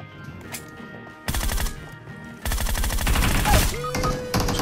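Loud bursts of automatic gunfire in a shooting video game, one short burst then a long sustained volley after a brief pause, with game sounds underneath.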